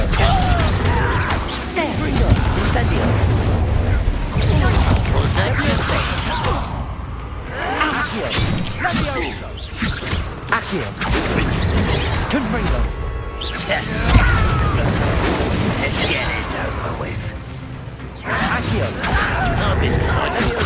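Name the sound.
Confringo and Incendio spell explosions in Hogwarts Legacy video game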